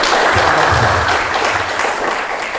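An audience at an Indonesian talk show about online business claps together in sustained, dense applause that stays loud for the whole stretch.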